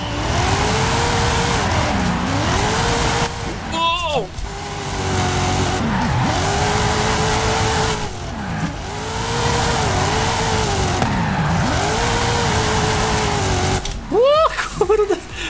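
A BMW in the Forza Horizon 5 racing game drives and drifts, its engine droning and rising through gear changes while tires squeal in several long skids; someone talks over it.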